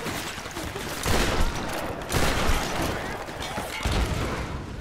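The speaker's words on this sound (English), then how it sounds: "Let's try out a new shotgun." Shotgun blasts from the Tomb Raider video game boom out loud at roughly one-second intervals, about four heavy shots with broadband crack and low rumble, amid a busy battle din with voices mixed in.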